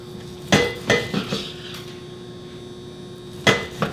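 A cake knife cuts through a chunk of meat on a board, slicing it into steaks about an inch thick; a few sharp knocks and clatters land in two bursts over a steady low hum, close by with no talking.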